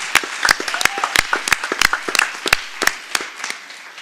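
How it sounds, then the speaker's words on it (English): Scattered applause at a Bryan ISD school board meeting: a small group claps in sharp, separate, uneven bursts that thin out toward the end, with no talking. "So I think that is a round of applause for sure."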